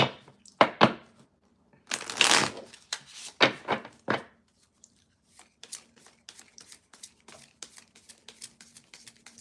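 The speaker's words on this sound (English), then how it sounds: "let's do one more shuffle." Tarot cards are shuffled up close: a few loud riffling bursts, then a quicker run of light, crisp flicks and taps.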